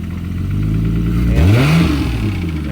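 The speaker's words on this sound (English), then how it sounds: "Sounds like it has an exhaust leak." A car with an exhaust leak idles with a low rumble, then revs once, its pitch sweeping up and back down, loud and close with a raspy edge and no talking.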